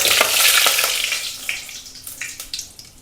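Cumin seeds and a dried red chili crackle and splutter in hot oil, the popping made fiercer by water on the ladle, with an intense sizzle at first that settles into scattered sharp pops close by.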